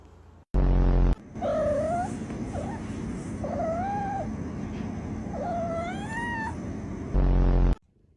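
A clingy cat being held lets out several drawn-out, rising and falling meows in a row, close and clear, with two short loud bursts of handling noise at the start and end.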